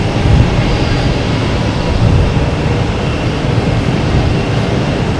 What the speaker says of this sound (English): Next taking off is Dashboard 8. The Dash 8. Heading back to Toronto.